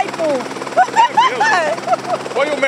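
A helicopter at a Mother's Day celebration at a military police battalion gives a loud, fluttering rotor drone, with people talking over it throughout.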